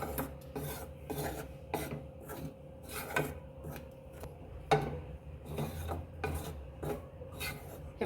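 Gram flour roasting in a pan is stirred with a utensil, producing rhythmic rasping scrapes repeated roughly every half second, close and fairly quiet, with no talk.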